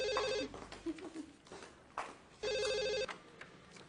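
A telephone rings indoors in two bursts of trilling bell tones separated by a pause, with soft footsteps and rustling between rings.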